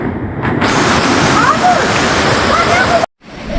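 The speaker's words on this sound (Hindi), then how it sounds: "अच्छा यहाँ से भी पानी निकलता है।" Water gushes out from among rocks in Tirah Valley, a steady close broadband rush that runs continuously before cutting off briefly near the end, with faint voices in the background.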